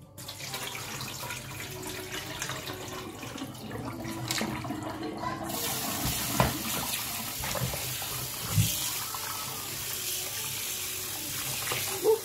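Hot water runs steadily from a kitchen tap into a sink, a loud continuous close gush lasting the whole stretch, with brief clatters and a low thump partway through, while cooking braised chicken.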